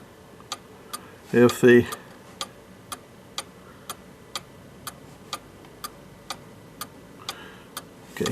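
A cuckoo clock's pendulum, set slightly out of level so it runs out of beat, ticks softly and unevenly throughout, with a brief spoken voice cutting in early.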